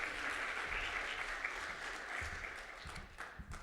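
A concert audience claps warmly for a composer, a dense round of applause that thins out toward the end.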